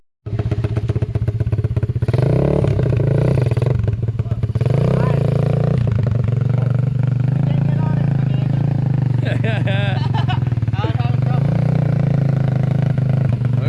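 An Apollo RFZ dirt bike engine runs loud and close throughout, revving up and down as it is ridden, with steady motor drone and some clatter.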